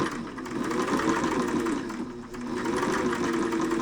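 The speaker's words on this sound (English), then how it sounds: "This is one of the last all metal Singers. Everything's metal on it. All metal gearing. It's real heavy duty. Runs real nice." An all-metal, heavy-duty Singer sewing machine with metal gearing runs steadily, giving a fast continuous mechanical whir and clatter up close, with a brief slowdown midway and no talking.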